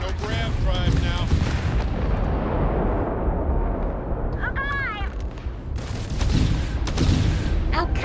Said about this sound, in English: Why are you shooting me again?